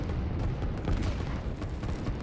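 Artillery fires from mountain positions in a strategy video game, with a muffled run of low, distant booms and thuds packed closely together over a couple of seconds, with no voices.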